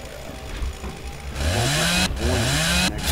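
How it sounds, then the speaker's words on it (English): A chainsaw in the zombie game Dead Island: Riptide revs up and whines in rising pulses, loud and close, with brief cuts in the sound. "He's got the fucking chainsaw!"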